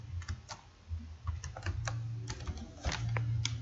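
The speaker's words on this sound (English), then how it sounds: "So I'll just enter the number here, and I'll enter my password." Fingers type a number and then a password on a computer keyboard, a quick uneven run of close, light key clicks against a faint room hum.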